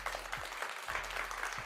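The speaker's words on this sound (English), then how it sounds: "Appreciate the applause, man." A brief burst of audience applause greets a host running through NFL draft grades, a short, fairly dense patch of clapping with a steady low hum beneath it.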